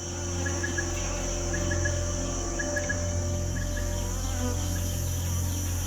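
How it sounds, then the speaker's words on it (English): A swarm of bees gathering at honey in the ape habitat, a steady dense insect hum that holds without a break, with insect or bird calls chirping faintly over it. "a swarm of bees discovers the honey."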